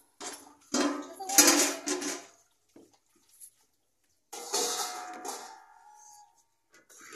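Utensils being scrubbed and washed outdoors in the sun, with clattering dishes, pots and pans in two bursts separated by a short quiet gap, close and moderately loud, with splashes of water.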